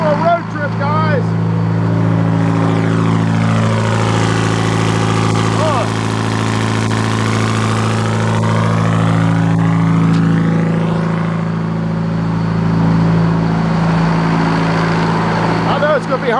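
The engine of a Roxor off-road vehicle runs loud and close as a steady, deep droning rumble, swelling slightly and easing back without any break.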